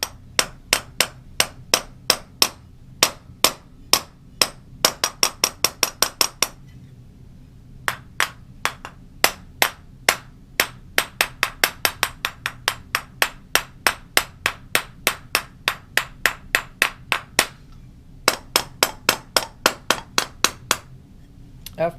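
Sharp, ringing taps strike a stuck fused-glass piece inside a kiln, dozens of quick hits in rapid bursts with short pauses, bright and close, with no talking.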